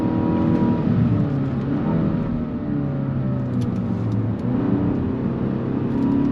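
A 2022 Kia Stinger GT-Line pulls hard out of a corner, its engine droning steadily and loudly with a rising tone as it accelerates, heard from inside the car.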